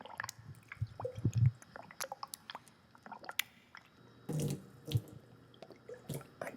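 A creature in a video game slurps holy water at a church altar, giving wet lapping, sloshing and dripping sounds in irregular bursts, faint and intermittent without speech.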